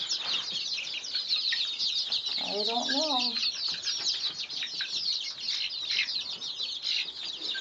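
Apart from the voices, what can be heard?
chickens clucking in a barn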